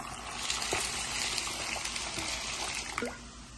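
Water trickles and splashes into a container of cashews set to soak, a steady light pouring with small bursts, close by and without voices.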